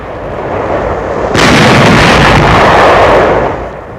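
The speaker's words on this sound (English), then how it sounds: "Firing on enemy barges in the Rhine before Dusseldorf." Heavy WWII gunfire aimed at enemy barges on the Rhine near Düsseldorf, a loud boom that erupts abruptly and rolls on as a sustained roar over a low background rumble before fading.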